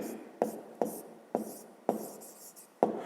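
Short pen or chalk strokes on a surface while working a 5th-grade math problem, five distinct scratchy taps spaced irregularly, close and quiet over a soft room hiss.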